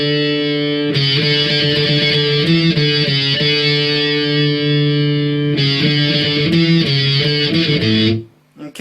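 Distorted electric guitar plays the intro riff of a song, a steady run of repeated sustained notes and chord shapes that continues for about eight seconds before cutting off, loud and alone.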